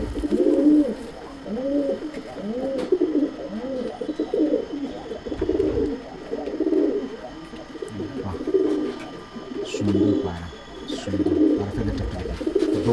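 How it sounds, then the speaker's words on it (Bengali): An antique-breed pigeon coos close by in a series of rolling, rhythmic calls repeated over and over, with faint background murmurs and a few brief clattering bumps near the end. "একটা অ্যান্টিক পায়রা দেখাচ্ছি বন্ধুরা"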